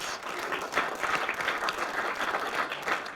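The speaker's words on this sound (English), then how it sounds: "give yourselves a massive round of applause" Steady audience applause at a social selling presentation, a dense crackle of many hands clapping at moderate level, continuous for about three seconds with no voices over it.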